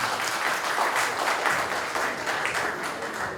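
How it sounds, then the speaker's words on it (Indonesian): An audience at an organization's national meeting in Jakarta breaks into applause, a thick, even burst of many people clapping that holds steady and loud for the whole stretch. "Sampai ini dari Banten tepuk tangan dulu."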